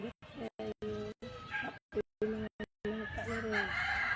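Fighting roosters at a farm crow and cluck close by, several calls in short bursts broken by brief gaps, with people talking over them.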